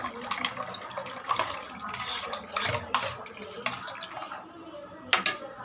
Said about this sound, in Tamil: இது கூட நம்ம இன்னும் கொஞ்சம் தண்ணி ஆட் பண்ண போகிறோம்